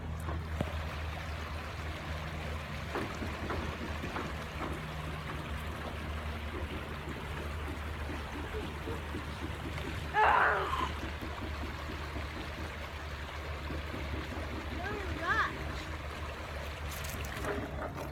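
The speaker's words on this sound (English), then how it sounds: "snow melting off the mountain. So that's what it is. Glacier water maybe also in it." Steady rushing water of a snowmelt mountain stream in Anchorage, Alaska fills the scene continuously, with a couple of brief faint sounds rising above it.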